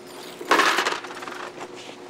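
Coins and keys dropped into a bucket at a metal-detector checkpoint, a bright jangling clatter that lands at once and rattles on briefly, close by.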